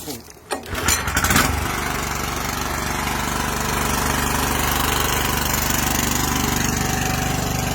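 A Red Roo rotary hoe's petrol engine is yanked with its pull cord, sputters and catches within a second, then settles into a loud, steady, close running drone.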